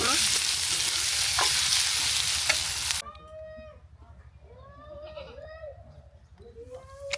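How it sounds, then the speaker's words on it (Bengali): Onion and chili fry in hot oil with bay leaves and garlic in a rural outdoor kitchen, a loud close sizzle for the first few seconds, then a quieter stretch where animal or bird calls sound in the background. "এখন আমি দিয়ে দিব পেঁয়াজ মরিচ, সময় নিয়ে তেলে ভেজে নিব"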